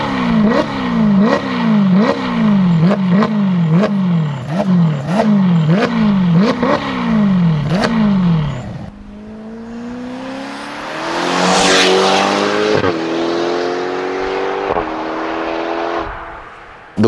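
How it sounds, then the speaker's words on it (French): Ferrari GTC4 Lusso T turbo V8 fitted with an IPE exhaust and sport catalysts, parked and revving: a rapid run of loud, sharp blips up and down, then one long, rising rev that holds and fades, close by and with no voices. "Donc Julien, GTC4 Lusso T pour turbo, ligne IPE, catalyseur sport."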